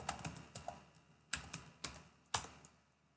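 A user password goes in on a computer keyboard: quiet, close keystrokes tapped in an uneven rhythm, with small clusters of clicks and a few sharper presses, and no voices.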